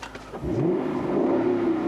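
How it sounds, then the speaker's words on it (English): A 2016 Lexus GS F V8 engine fires up with a short crank, then settles into a deep, loud, rising rumble held close by. "it makes the same lovely noises that the RCF makes. It's the same V8 engine."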